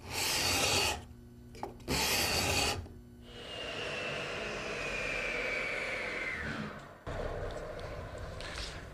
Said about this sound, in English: It's perfect to fit into our cove and scrape down the wood to a nice smooth surface.